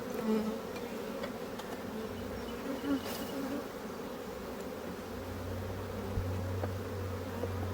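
Honey bees swarm around an open beehive frame of freshly drawn comb holding eggs and larvae, making a constant close buzzing drone with a few louder passes near the microphone and a low hum joining toward the end.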